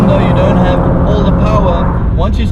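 A BMW 320i rear-wheel-drive car takes a sweeping corner with loud, steady engine drone and road roar from inside the cabin, and a voice talks over it.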